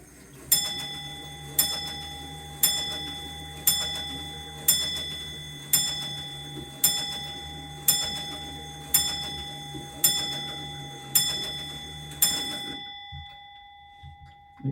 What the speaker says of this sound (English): it's got a chime on it, and it's coming up to 4 o'clock